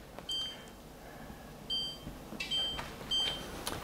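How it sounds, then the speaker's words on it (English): Kitchen timer being set, giving several short, high electronic beeps spaced irregularly, some in quick pairs, fairly close and clear over a quiet kitchen background. "let me set my timer"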